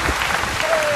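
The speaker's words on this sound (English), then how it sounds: "Give us a round of applause" Studio audience applauding a guest, city commissioner Cyndy Floyd, on a talk show: a short, steady burst of clapping with crowd noise and a voice faintly underneath.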